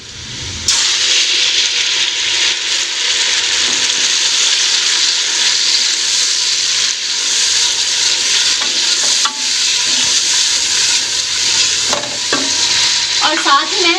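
Tomato paste sizzles hard in a hot pan over already-cooked garlic and ginger for a lauki chana dal curry, a steady loud frying hiss with scraping stirs and spoon clinks near the end, no talking.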